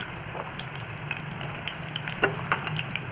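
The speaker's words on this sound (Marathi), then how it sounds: "याच्यामध्ये केळांचे तुकडे फ्राय करून घ्यायचे" Raw banana pieces fry in hot oil in a kadhai, producing a soft steady sizzle broken by scattered crackles and a few sharper pops near the end, with no voices.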